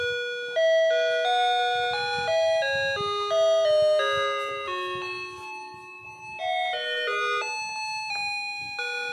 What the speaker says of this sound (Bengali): আর একবার প্রেস করলে ঘন্টা বাজবে 4টে